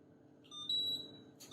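A single high-pitched electronic beep from an air fryer, sustained for about a second over a low background hum.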